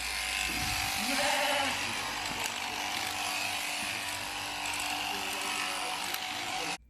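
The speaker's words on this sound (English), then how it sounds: "the tool the farmer is using is electric clippers" Electric clippers shear a sheep indoors, giving a steady continuous mechanical buzz that runs almost the whole way before cutting off abruptly at the end, with no talking.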